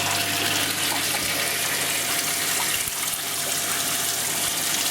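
Water pouring steadily from a canister filter outlet into an aquarium during maintenance, a continuous close splashing rush that stays loud and even throughout with no talking.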